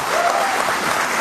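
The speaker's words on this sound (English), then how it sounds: "Big applause for Trump at the old Bill Maher." A studio audience at a Bill Maher talk show breaks into dense, sustained applause, a close, even wash of clapping with no gaps.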